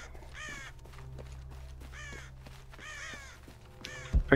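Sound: crows cawing in Shadow of the Tomb Raider video game

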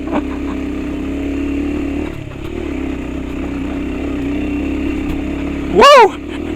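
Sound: trail bike motorcycle riding

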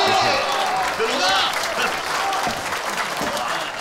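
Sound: audience applause welcoming a guest

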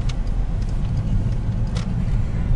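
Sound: car driving on base

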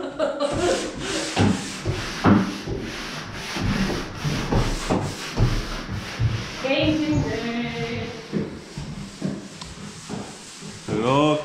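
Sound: sanding

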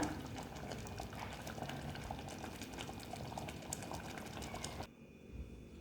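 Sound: bottle gourd dal gojju boiling in a pot

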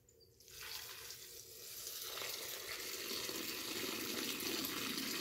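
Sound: tap running cold water to rinse omena fish

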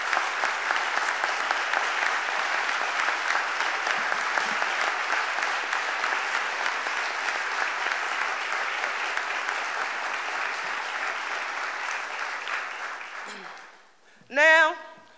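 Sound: applause

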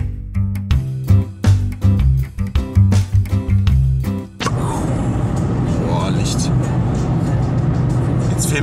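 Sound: car driving

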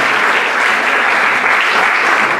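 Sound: audience applause at a theatre event

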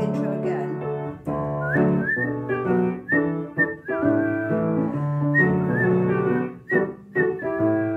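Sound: people whistling a tune along with music

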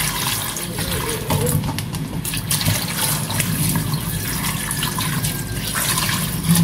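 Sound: pouring water into cooking dish

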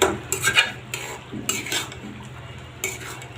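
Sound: stir-frying chicken meat in a pan

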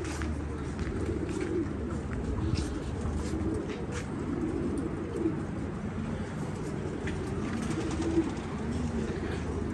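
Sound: pigeons flying and cooing

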